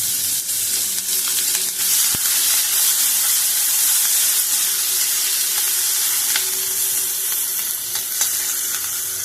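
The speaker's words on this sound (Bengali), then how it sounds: "ফোড়ন দিয়ে দিলাম, পেঁয়াজ ফোড়ন দিয়ে দিলাম।" Onions fry in hot oil as a spice tempering for an omelette curry, giving a steady, dense sizzle that stays close and loud for the whole stretch, with a few sharp scrapes and pops and no talk.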